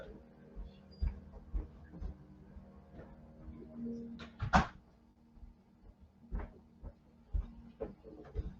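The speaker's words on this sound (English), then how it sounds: "I'm just going to close this door for 1 second." An indoor door swings shut with a single sharp knock midway, set among scattered soft bumps and rustles, with a low steady hum underneath.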